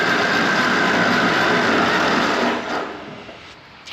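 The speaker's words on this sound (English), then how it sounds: "we're not working that starter motor too hard because it's under no compression" An old engine on an abandoned machine, spun by its starter motor with no compression: a fast, even mechanical whirr that runs steadily and then winds down and fades near the end, close by and with no speech.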